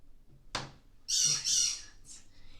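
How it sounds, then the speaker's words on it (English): A pet bird lets out a sharp click followed by two loud, shrill squawks and a fainter trailing call, close and alone in an otherwise quiet room. "The bird starts going crazy."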